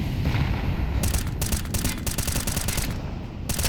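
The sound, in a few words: rifle gunfire in Counter-Strike video game match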